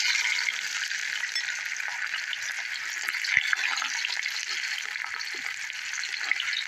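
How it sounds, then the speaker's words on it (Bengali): Chopped onions fry in oil in a clay wok for Bengali mutton cooking, giving a steady, moderately loud hiss and sizzle with faint occasional stirring scrapes. "লালচে করে পেঁয়াজ ভাজা হয়ে গেছে"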